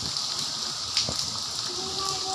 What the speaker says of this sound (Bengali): প্রচুর বৃষ্টি ঝড় বৃষ্টি হচ্ছে